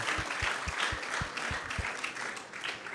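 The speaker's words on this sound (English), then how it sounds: "So let's give them a big round of applause." Applause from a crowd, a steady patter of many hands clapping at moderate loudness, sustained throughout.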